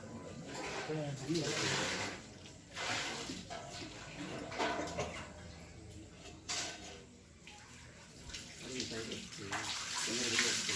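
Water is poured during a full-moon puja ceremony at Panaiyappatti, splashing and gurgling irregularly for about ten seconds, with people's voices and clatter mixed in underneath.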